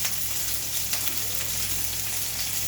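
Green chilies, chopped onion and garlic fry in a pan for curry, making a dense, steady close sizzle that fills the whole moment without pauses.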